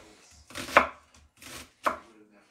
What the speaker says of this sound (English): The rest of the onion, we're going to actually cut it the opposite way.